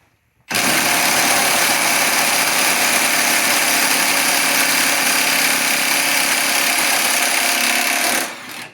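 A Milwaukee M18 impact wrench on setting 3 works at a crankshaft nut on a 1993 80 series Land Cruiser, a loud, continuous high-pitched buzzing hammer that starts abruptly, runs steadily for nearly eight seconds, then cuts off.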